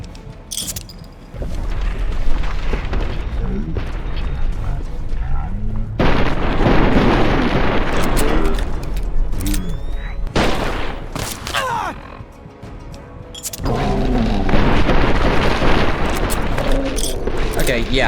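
A mini nuke from a launcher in Fallout detonates with deep, heavy booms and rumbling blasts that roll on for several seconds, separated by brief gaps, while a voice talks over the explosions.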